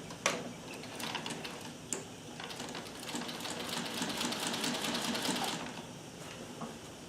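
Singer 301A sewing machine edge stitching a shirt placket with a straight stitch foot, a close, rapid mechanical whir with ticking needle rhythm, starting with a couple of clicks and winding down near the end.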